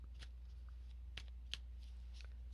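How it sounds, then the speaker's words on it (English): Tarot cards are shuffled faintly over a low steady hum, with a few short riffling flicks and snaps spaced irregularly. "They want me to shuffle cards more."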